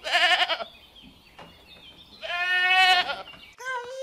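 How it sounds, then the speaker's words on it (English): A goat bleats loudly and close by, giving two quavering calls separated by a short pause, with a brief, different animal call starting at the very end. "Goat. Goat."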